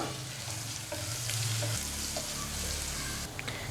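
Onion, green chilli and curry leaves sautéing in a pan for egg thoran, a continuous close sizzle with soft scraping stir strokes.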